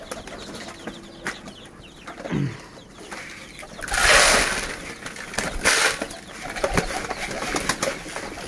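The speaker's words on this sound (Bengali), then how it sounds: "আর এই যে আমার মোস্ট ফেমাস ইন্ডিয়ান লোটন কবুতর আমার বাসার।" Indian Lotan pigeons in a home coop make soft nearby calls and cooing, with a loud burst of wing flapping in the middle and scattered rustling and clicks.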